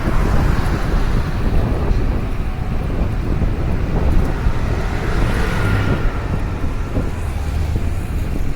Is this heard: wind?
yes